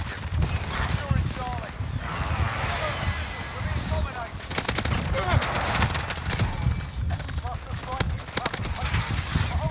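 Rifle gunfire from an M91 in a first-person shooter match on the Shipment map, heard as sharp bursts of repeated shots at close range, denser in the second half, mixed with game noise and someone talking throughout.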